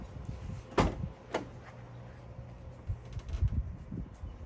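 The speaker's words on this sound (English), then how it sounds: "And then I'm going to open up this van door." The door of a Sprinter van is opened close by: two sharp latch clicks and a clunk, followed by softer handling knocks and scrapes against the metal body.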